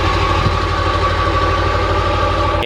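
A 2000 Ford F-250 Super Duty with the 7.3L Powerstroke diesel idles through a blacked-out Bully exhaust tip, giving a steady, close, low rumble with a faint knocking clatter and no voices.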